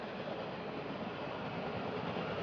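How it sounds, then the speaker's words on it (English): A train rolls past close by, a steady broadband rumble and rush with faint wheel rattle holding evenly throughout, with no talking over it. "train coming by"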